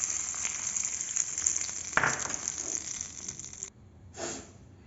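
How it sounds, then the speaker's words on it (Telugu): Tempering of mustard seeds, cumin, chana dal, curry leaves and chillies sizzling in hot oil, a steady crackling fry with a sharp burst when added, then quieting briefly before sizzling again. "మనము పోపు ఇందులోకి వేసుకునేస్తాము."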